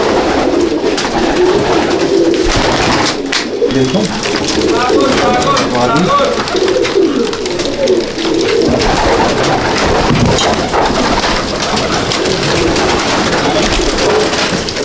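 Pigeons coo in a racing pigeon loft in Kolkata, a steady murmur of soft throaty calls running throughout, with someone talking over them at times.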